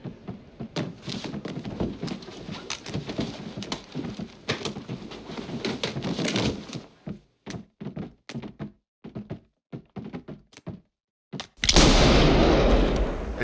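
Gunshot during a struggle in the card game Card Shark: a long run of thumping, scuffling impacts and knocks, then a sudden loud broadband blast that rings out and fades.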